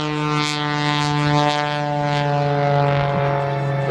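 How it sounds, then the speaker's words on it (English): An MX-2 aerobatic airplane with a blueprinted Lycoming engine performs at the 2013 Wings over North Georgia Air Show, its propeller engine howling with a loud, sustained harmonic drone that swells and fades slightly as it passes nearby. "And like a NASCAR race driver, this engine has been blueprinted to put out the maximum power. You can hear it as it screams at us."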